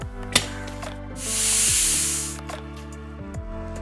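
A pressure cooker holding chicken pieces in water releases a single soft burst of hissing steam that swells and fades over about a second, set against steady background music.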